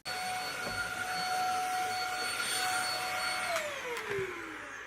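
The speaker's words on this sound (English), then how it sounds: "Just use your wife's vacuum cleaner." A household vacuum cleaner runs steadily and loud throughout, its whine holding constant before dropping in pitch near the end as if winding down, with no talking.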